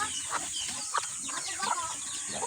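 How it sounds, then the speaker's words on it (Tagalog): A few short clucks from chickens nearby, soft and irregular, over a faint steady background hiss. "Pati yung manok ay uh, kumakain."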